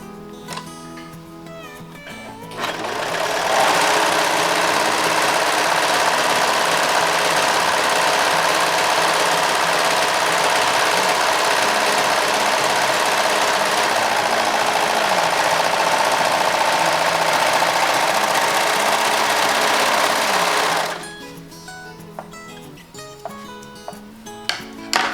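A serger running steadily for about seventeen seconds as it sews a rolled hem, a loud, even mechanical buzz that starts abruptly and cuts off just as sharply, with light handling sounds before and after.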